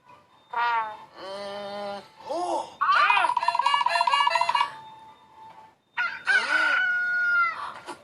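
Several loud rooster crows, cock-a-doodle-doo calls repeating close by, with clucking fowl between them and a short pause before the final crow.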